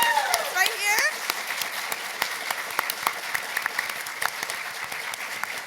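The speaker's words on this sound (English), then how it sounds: "can I get a round of applause for all of us right here?" Audience applause fills a PAX East gaming convention panel on speedrunning, a steady wash of many hands clapping at moderate loudness with a brief voice near the start.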